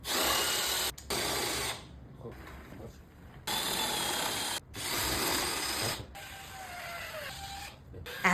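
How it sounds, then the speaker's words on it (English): Light sandpaper worked by hand over the surface of a wooden tea trolley with brass inlay designs, heard as close, rasping scrubbing strokes in bursts separated by short pauses. "And lots of sanding with light sandpaper to smooth the surface."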